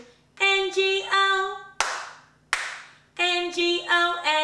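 A pair of sharp, close hand claps fills the gap between lines of a sung children's Bingo tune, the singing resuming right after the second clap.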